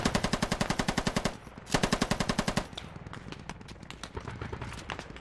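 A PKP Pecheneg machine gun fires in the video game Squad during a hillside firefight: two loud, rapid bursts of steady rhythmic shots, then a longer stretch of quieter, rattling distant gunfire.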